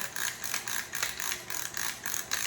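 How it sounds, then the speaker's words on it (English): A pepper grinder cracking black pepper, a quiet close rhythmic ratcheting crunch repeating in quick even twists over a couple of seconds. "And then I'm using my fun pepper grinder"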